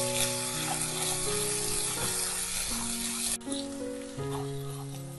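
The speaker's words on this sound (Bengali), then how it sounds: "আদা রসুন বাটাটাকে পেঁয়াজের সাথে 1 মিনিট মতো সময় ধরে কাঁচা গন্ধটা চলে যাওয়া অবধি ভেজে নেব।" Onion with ginger-garlic paste frying in a pan, a steady close sizzle running throughout with background music tones layered over it and a brief dip near the middle.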